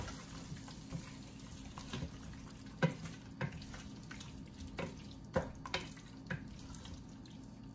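Okra sauce with mushrooms is stirred in a pot, making soft, intermittent scraping and clinking taps against a faint simmering hiss. The stirring is quiet and irregular, with no voices.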